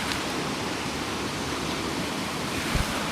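Sea water at Dawlish Warren washes steadily over the groynes, a continuous broadband rush of surf with no pauses, fairly loud and close, and a soft thump near the end.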